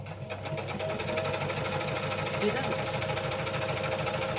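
A sewing machine stitches through bird journal pages in a continuous close rattling hum, with a person talking over it.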